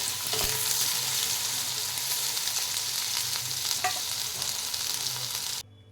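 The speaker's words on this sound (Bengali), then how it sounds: "ভিন্ডিটা দেখুন এখানে ভালো করে ভাজা হয়ে গেছে। এইভাবে দেখো নিচে তেল রয়েছে" Okra (lady finger) sizzles steadily as it fries in hot oil in a pan, with a few brief clinks of stirring and no talking, before the sound cuts off near the end.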